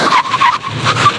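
A car brakes hard on large disc brakes with anti-lock and electronic brake force distribution, giving a loud, continuous tyre skid and screech that lasts just over a second.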